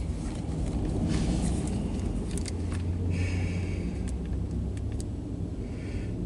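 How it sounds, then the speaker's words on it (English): Road traffic, a continuous low rumble of passing cars and engines heard from nearby, steady throughout with faint higher clatters and no talking. "There's never this much traffic at 220, but there is now, man."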